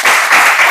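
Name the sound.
class applauding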